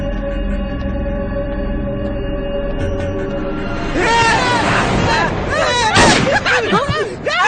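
A single sharp gunshot in a Tamil film scene cracks out near the end, amid agitated voices and shouting, after a stretch of low, rumbling ambience.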